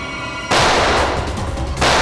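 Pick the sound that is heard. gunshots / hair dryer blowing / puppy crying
gunshots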